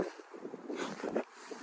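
Gusty wind buffets the microphone on an outdoor disc golf course, a rough, fluctuating rush of noise that swells and fades over a couple of seconds, fairly faint and with no talking.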